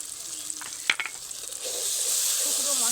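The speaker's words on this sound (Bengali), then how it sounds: "শুকনো মশলাগুলো একটুখানি নেড়ে নেব কয়েক সেকেন্ডের জন্য।" Ground spices, including turmeric, red chilli and Kashmiri chilli powder, sizzle steadily in hot oil for a Bangladeshi egg curry, with a few scraping stirs early on and the frying hiss growing louder and continuous.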